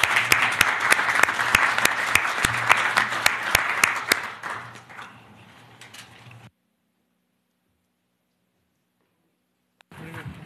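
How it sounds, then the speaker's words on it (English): A conference audience applauds its speakers at the close of an international peace and security event, loud dense clapping for about four seconds that thins and fades out, then silence, with a brief burst of sound at the very end. "please do join me in a round of applause to thank all of our speakers"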